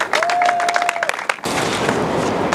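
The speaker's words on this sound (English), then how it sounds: "please keep the applause going" Audience applause at a Freedom Month ceremony breaks out loudly after a brief tone, a dense burst of many hands clapping that continues steadily to the end.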